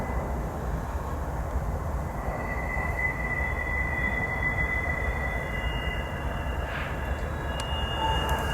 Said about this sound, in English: I can hear the brake retarders on the hump yard.